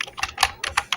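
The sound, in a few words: typing on a computer keyboard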